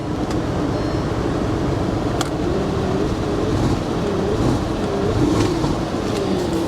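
A Dodge Ram SRT-10 truck engine with a flashing check engine light, running poorly, drones loudly and continuously up close, with an uneven, rumbling character and no talking.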